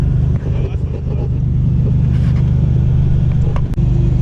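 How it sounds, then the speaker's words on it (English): A car on the adjacent lane at a drag strip during a quarter-mile run, heard as a loud, steady low engine rumble with wind and interior noise, recorded from inside a Buick Grand National. "That's a car that was running on the lane next to me."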